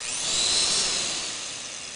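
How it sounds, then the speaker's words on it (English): Pneumatic drill noise as a workplace and environmental nuisance: a steady, loud high-pitched whine and hiss that swells slightly and then holds for two seconds, with no talking. "and pneumatic drills"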